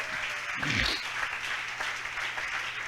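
A church congregation applauds the Lord during a service, with steady, moderately loud clapping from many hands that continues throughout and is joined by a brief voice early on.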